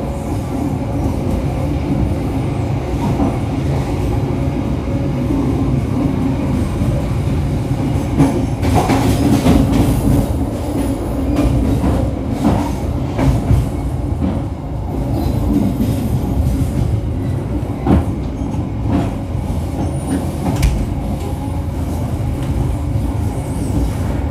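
An Argo Sindoro passenger train rolls on rails into Tegal station at night, a loud continuous rumble with rhythmic wheel clatter and occasional squeals, heard from on board without talk.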